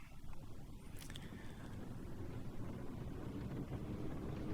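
A Grob G115 light training aircraft in the FSX flight simulator runs up its engine for takeoff, giving a steady, muffled engine drone that holds at an even level throughout.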